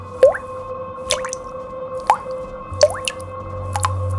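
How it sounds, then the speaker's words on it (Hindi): Distinct drips fall one at a time from a wooden ceiling, each a small wet plop at irregular intervals, close and clear against a quiet background. "तभी छत से कुछ टपक रहा था।"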